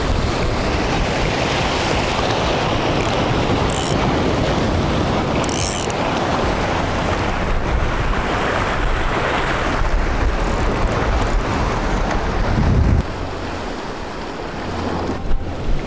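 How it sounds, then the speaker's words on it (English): Strong east wind buffets the microphone on the Texas coast, a loud continuous roaring rush with surf-like washing and no pauses. "The wind is so bad."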